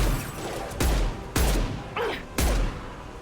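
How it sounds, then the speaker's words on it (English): Hand cannon fire in Mass Effect 2: four loud, heavy shots spaced roughly half a second to a second apart, each a sharp broadband blast with a booming low tail, standing alone with no talk. "this is the new hand cannon"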